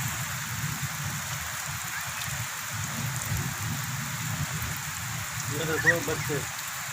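Rain falls steadily on surfaces in a village, a constant patter with dripping, while a voice and other voices speak intermittently over it.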